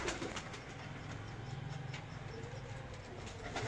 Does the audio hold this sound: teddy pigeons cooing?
yes